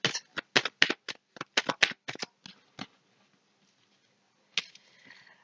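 A deck of cards is riffled and snapped in a burst of sharp crisp flicks, followed after a pause by a single card being drawn and slid, close and clear with no talking.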